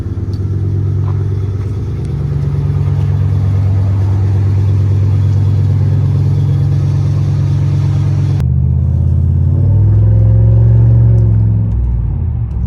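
Straight-piped Pontiac Bonneville GXP idling after a cold start, unstarted for a day: a loud, steady, deep exhaust rumble held close, shifting abruptly to a lower, throbbing burble partway through.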